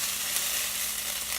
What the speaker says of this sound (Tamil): இன்னும் கொஞ்சம் இதில் வந்து பொரிய விடுவோம், வதங்க விடுவோம்